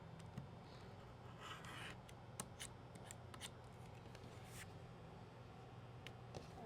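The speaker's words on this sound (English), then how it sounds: "And then we trim the second side" Scissors trim the second side of a piece of quilt fabric, a soft, close, quiet cutting and rubbing with a few sharp snips scattered through a low hum.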